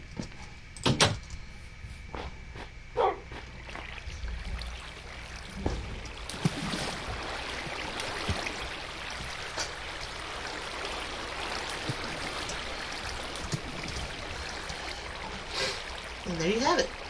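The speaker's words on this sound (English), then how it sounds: "Turn on the water." Flowing water in Minecraft runs as a steady, broad rushing wash through most of the stretch, with a few block-placing clicks and taps early on and a brief voice near the end.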